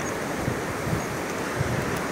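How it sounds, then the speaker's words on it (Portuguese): Sea waves surging into a river mouth on a beach, a steady broadband wash of surf with wind rumbling against the microphone, continuous and fairly loud with no talking. "Aí, ó, o mar tá entrando no rio"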